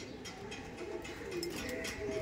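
Pigeons coo at a busy Giribaz pigeon market, low murmuring calls repeating over a dense bed of crowd and market noise, with no clear voice standing out.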